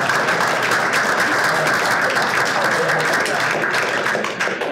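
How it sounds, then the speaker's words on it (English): Dense, steady applause from an audience at a blockchain ask-me-anything talk, many hands clapping together at a constant loud level for several seconds before easing slightly at the end. "Please clap."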